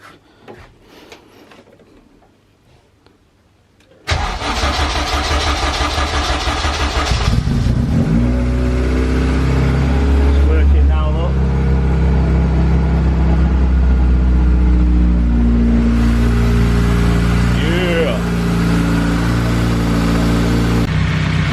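A Honda Civic K20 engine, just repaired after head gasket failure, cranks and catches after a quiet stretch, then runs loudly and unevenly with a few revs rising and falling, close by.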